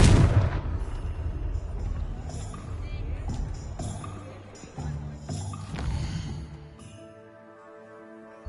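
An explosive blast spell in the wizarding video game Hogwarts Legacy goes off with a sharp, heavy boom at the start, followed by rumbling debris and scattered crashes that fade into softer game tones and music.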